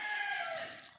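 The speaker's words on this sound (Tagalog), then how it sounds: "Maririnig mo lang mga tilaok ng manok." A rooster crows once in the countryside, a single faint, drawn-out call heard from a distance and fading at the end.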